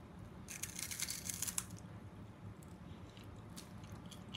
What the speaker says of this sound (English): I'll just taste the wafer.